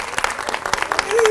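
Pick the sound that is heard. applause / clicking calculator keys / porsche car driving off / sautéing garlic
applause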